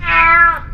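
A loud single cat meow, slightly altered as if played through a speaker, rises and fades within under a second, heard alone in a haunted office horror story.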